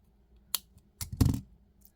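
Snips of wire cutters trimming excess beading wire on a handmade necklace: a single crisp click, then a quick cluster of sharp snaps, close and isolated against near silence.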